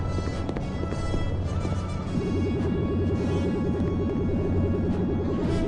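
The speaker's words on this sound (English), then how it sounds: "I heard footsteps." Rhythmic footfalls patter steadily in the latter half, a regular thudding beat over a dense, noisy background without talk.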